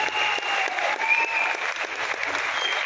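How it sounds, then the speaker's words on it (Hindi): Sustained applause from a seated audience at a sales seminar in a hall, a dense, even wash of clapping held steady and fairly loud throughout with no voices over it. "मजा नहीं आया अच्छी तालियों से?"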